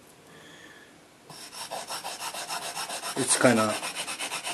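A kitchen knife blade is drawn back and forth across a very rough grit whetstone, making steady, close rasping strokes that build in loudness and repeat in an even rhythm, with someone briefly speaking over it.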